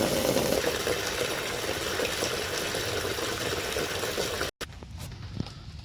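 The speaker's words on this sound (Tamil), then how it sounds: "ஃபஸ்ட்டு வந்து தண்ணி எடுத்துக்கிறேன்" Tap water running steadily into a container, about 20 litres, for treating sick guppies: a continuous broadband rush that cuts off abruptly near the end and is followed by a few faint drips and clinks.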